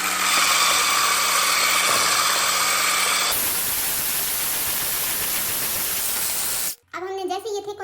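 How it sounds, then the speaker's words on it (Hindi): An electric beater whips cake mixture at turbo full speed, giving a loud, steady motor whine with a constant broadband whirr that shifts in tone partway through, before a voice speaks briefly at the end. "इसको हम डायरेक्ट टर्बो पे बीट करेंगे।"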